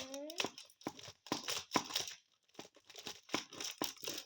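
A crinkly package is opened in short, uneven bursts of crackling plastic with pauses in between, quiet and close, with a brief voice at the start.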